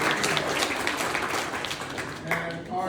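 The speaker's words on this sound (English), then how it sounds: "deserves a round of applause" An audience at a community meet-and-greet networking event breaks into sustained applause, a dense wash of clapping that holds steady throughout while a voice speaks over it.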